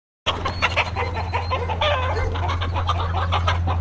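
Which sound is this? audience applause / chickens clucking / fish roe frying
chickens clucking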